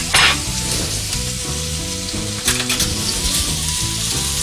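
Butter melting and sizzling around a steak in a hot pan, a loud, steady crackling fry with brief sharper spatters, over a low tonal background.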